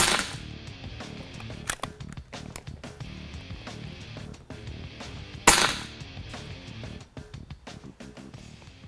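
RAW HM 1000X .357 air rifle firing H&N Grizzly slugs, a series of sharp, spaced cracks, one notably louder near the middle, over quiet outdoor background.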